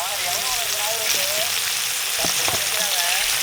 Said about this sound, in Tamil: குழம்பு வச்சுக்கிறாரு. இது எண்ணெய் குழம்பு. மசாலா பூரா எண்ணெயில் கிடக்குது.